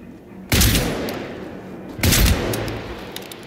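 Two heavy gunshots in the video game Generation Zero, each a sharp loud crack about one and a half seconds apart followed by a booming decaying tail, close and alone without speech.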